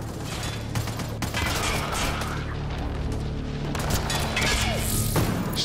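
Enemy aliens fire rapid bursts of gunfire with heavy booms and crashes in the shooter Mass Effect Andromeda on PS4, a dense, loud, continuous barrage.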